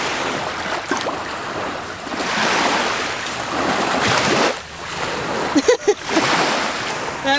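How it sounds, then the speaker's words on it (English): Lake Michigan waves wash against a dock in swelling surges of surf, with a few sharper splashes near the end, loud and close. "That wave made you nervous, didn't it?"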